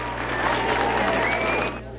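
A crowd of several hundred greeting President-elect Reagan produces a continuous murmur of cheering and clapping, with scattered voices rising above the steady background din.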